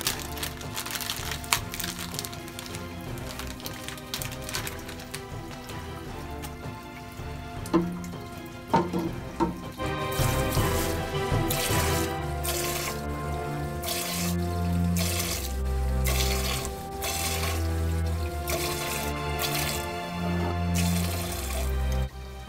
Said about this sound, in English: I'll just add a little bit more to the tank